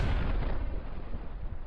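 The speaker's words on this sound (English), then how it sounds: "Watch this. Rocket launcher." A rocket launcher fires in the video game GTA Vice City, one loud, booming blast that rumbles and slowly fades over a second or two.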